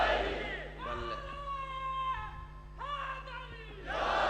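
A crowd at a religious gathering honoring Imam Husain roars a chant together, with sustained, swelling voices in long pulses over a steady background hum.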